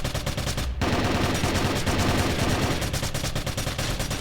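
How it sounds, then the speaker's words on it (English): Sustained automatic gunfire from a Warzone video game match rattles in dense, rapid bursts, loud and continuous across the whole stretch with a brief break early on, and no voices over it. "you saw he stopped shooting at the end there because he realized that Resneps was going to cap if he kept expending ammo."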